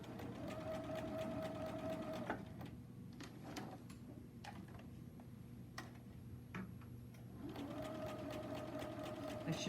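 A sewing machine stitches thread in steady rapid bursts, running at the start and again near the end with a quieter pause in the middle broken by a few sharp ticks and clicks.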